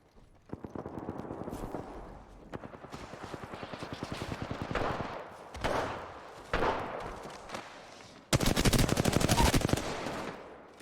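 Gunfire from Apex Legends while playing Wraith in ranked, with rapid automatic bursts, several separate volleys and a loud close burst near the end, and no talking.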